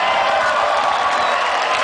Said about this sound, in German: Kurzer Applaus für ihn.